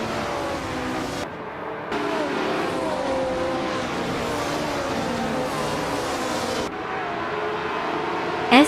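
Vintage 1960s-class Formula 1 cars in a racing video game, led by a 1963 Brabham BT3, drone loudly with continuous high engine whine, pitch sweeping as they rev and pass, brief dips in the roar between.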